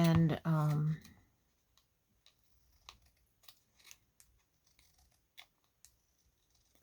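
Scissors trim fluffy fabric edges for craft snippet strips, a series of soft, crisp snips at an uneven pace, close and quiet, following a short vocal sound at the start.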